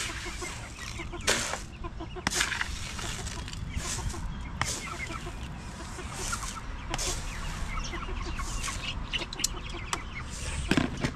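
Backyard chickens cluck and chatter nearby in a steady, busy stream of short calls, with occasional sharper squawks and light rustling around the coop area.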